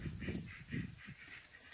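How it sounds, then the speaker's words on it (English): Ducks honk and quack from inside a barn in a quick, rhythmic series of calls. The calls are faint and somewhat distant, with no voices over them. "And the ducks are still in the barn, I hear them."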